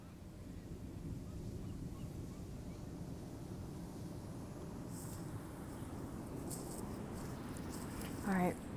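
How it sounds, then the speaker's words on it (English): Ocean waves at a sunset beach in California make a steady wash of surf with wind noise on the microphone, and a brief louder bump near the end. "Look at the waves for a second."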